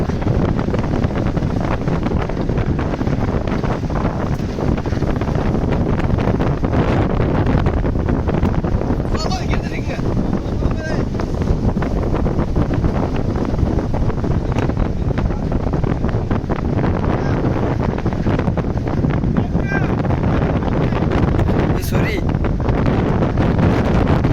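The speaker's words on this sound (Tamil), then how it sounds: "அந்த காற்று மழை எல்லாமே எவ்வளவு வேகமாக இருக்குன்னு பாருங்கள்." A fishing boat rides out a sudden storm at sea, with strong wind and rain roaring steadily into the microphone, loud and unbroken, while a voice talks faintly underneath.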